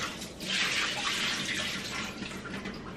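Water from cooking manicotti pasta shells pours out in a steady, continuous splashing rush, like a kitchen sink draining, close and fairly loud for the whole stretch.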